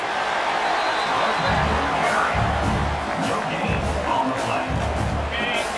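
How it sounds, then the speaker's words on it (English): A stadium crowd in the College Football 25 video game roars steadily with rising swells of cheering as a defense holds in the red zone, while a commentator talks over it. "And the crowd coming to life here, trying to help this defense down in the red zone."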